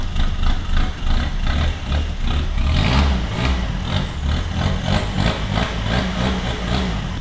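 A Peugeot 206 1.4 HDi diesel with its airflow meter unplugged runs steadily, its engine note rising and falling in repeated revs, heard close and loud with no voices over it.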